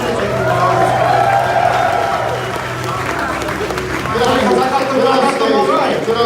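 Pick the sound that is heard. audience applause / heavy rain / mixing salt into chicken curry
audience applause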